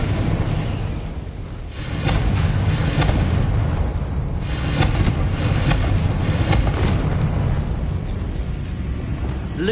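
In Hogwarts Legacy, a Confringo fire spell detonates with a loud, rolling rumble that swells after a moment and sustains as a dense, thunder-like roar.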